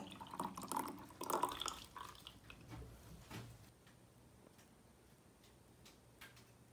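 Homemade orange squash pours into an airtight bottle, a thick stream at first that thins to faint scattered drips and ticks, quiet and close.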